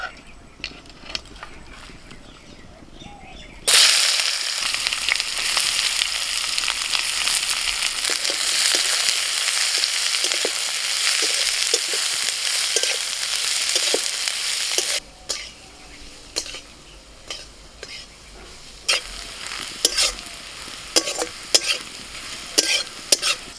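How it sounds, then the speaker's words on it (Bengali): Onions frying in a little oil in a wok: a loud hiss bursts in as they hit the pan, then a sustained sizzle with repeated scraping stirs, quieter and more intermittent toward the end. "কড়াই একটু তেল দিয়ে দিয়েছি, এবার পেঁয়াজগুলো দিয়ে দিচ্ছি।"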